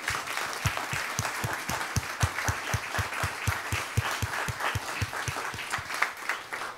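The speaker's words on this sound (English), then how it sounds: "they deserve the biggest round of applause" Audience applause at the Danube Salon of the Europa-Forum Wachau 2023, a broad wash of clapping with one pair of hands close by striking a steady, even rhythm throughout, moderately loud and with no talk.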